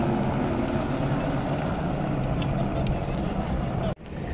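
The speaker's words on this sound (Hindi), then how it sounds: "ये हेलीकॉप्टर बार बार आ रही है, जा रही है लगातार" A helicopter flies near the Kedarnath helipad in the Himalayas, its rotor drone a steady broadband roar that stays loud and close throughout, ending with a brief sharp dropout.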